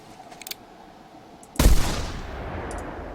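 A single loud rifle shot in theHunter Classic, fired at rabbits near a burrow at a road intersection; faint clicks before it, then a sharp blast with a long rolling echo decaying into outdoor ambience.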